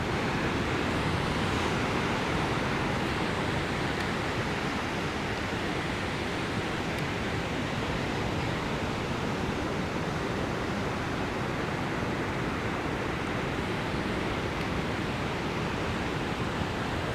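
Ocean surf rolls steadily onto a beach while fishing on the Ninety Mile coast, a continuous broadband wash of breaking waves close by with no voices.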